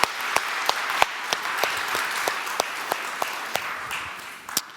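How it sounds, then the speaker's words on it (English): Scattered hand claps from a small audience at a chess event, with sharp individual claps rising above a soft, steady background. "Big round of applause for Mr. Lucas Varga."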